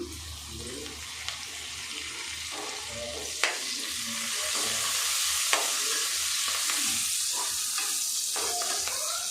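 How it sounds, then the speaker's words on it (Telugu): Curry leaves sizzle and crackle as they are dropped into hot oil for a bitter gourd curry. The frying hiss is steady and close, with small sharp pops scattered through it. "కరివేపాకు వేస్తున్నా"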